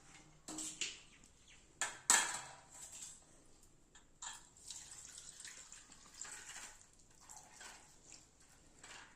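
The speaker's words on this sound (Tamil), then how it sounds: "தண்ணியை வடிகட்டி எடுத்துக்கலாம்" Soaked lentils are drained of their water, giving soft irregular splashing and trickling bursts with a clatter near the start, close and fairly quiet, with no voice.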